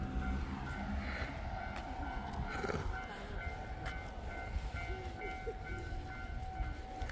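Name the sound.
train passing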